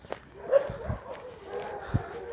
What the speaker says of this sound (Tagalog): Nandito na kami sa parte ng mga aso.